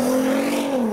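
A Volkswagen Golf R32 drives off from a car show, its engine humming steadily and loudly close by, with the note sliding slightly lower as it pulls away.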